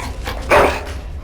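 A single sharp dog bark in Dragon Age Origins, close and loud, one short yelp standing out over a low background hum.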